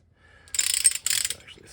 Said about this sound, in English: I've never had a set of spanner wrenches that hooked up to a torque wrench like this before